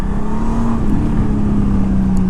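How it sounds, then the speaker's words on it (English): Steady engine drone of a 2018 Honda Goldwing DCT motorcycle under engine braking, a constant mid-level hum with faint road and wind noise, no voices. "it must be the engine braking"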